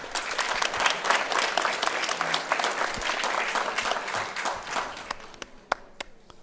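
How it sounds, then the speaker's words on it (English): Audience applause for athletes at a school weightlifting championship, a dense, lively burst of many hands clapping in a hall that thins out toward the end into a few scattered, isolated claps. "Round of applause for our athletes."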